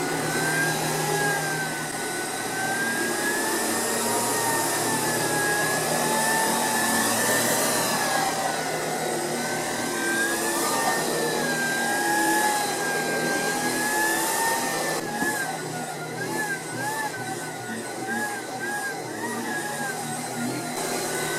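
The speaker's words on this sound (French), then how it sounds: "Et donc l'aspirateur adapte automatiquement sa puissance." A Tineco Pure One cordless stick vacuum cleaner runs continuously and close up, its steady whine wavering slightly in pitch as the suction power adjusts automatically. There is no speech.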